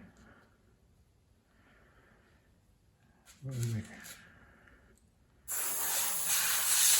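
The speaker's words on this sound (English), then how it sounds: "I'm all set up ready to start, so let's get some primer on." An airbrush sprays thinned primer, about 60% thinners to 40% paint, onto the chassis of a 1/35 scale Scammell Pioneer R100 model kit. A steady, loud hiss of spray follows a brief puff of air and quieter background sounds.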